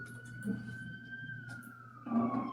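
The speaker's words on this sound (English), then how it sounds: "every podcast show I have, you're gonna hear some sirens" Emergency vehicle siren outside in a downtown setting, a steady wailing tone slowly sliding lower, heard at a distance beneath people talking indoors.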